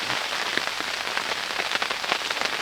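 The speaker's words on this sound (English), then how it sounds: "It's not snowing out there right now. It's raining. It is currently raining." Steady rain patters on a surface outside a snowy Pennsylvania campsite, a dense continuous hiss with scattered louder drops close by, no voices.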